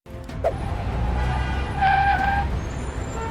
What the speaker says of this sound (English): A car skidded across the wet road and nearly crashed off the edge